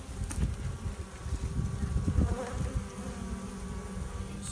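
Honeybees on hive frames make a constant close buzzing drone that stays steady and full, with no voices.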